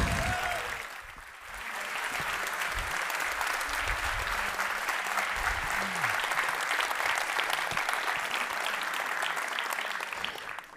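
Audience applause at a conference summit welcoming speaker Martin Eriksson, building after a brief dip into a full, steady crowd clapping that carries on for several seconds before tapering slightly at the end.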